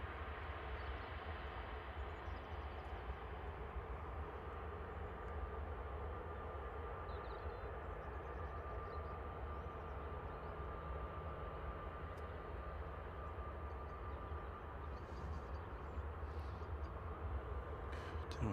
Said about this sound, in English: EasyJet looks like it's lining up, ready to go